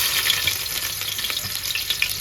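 Chopped onions, about two medium ones, frying in hot oil for chicken tehri, a steady close sizzle and crackle with small pops throughout, no talk.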